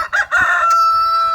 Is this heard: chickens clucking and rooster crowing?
yes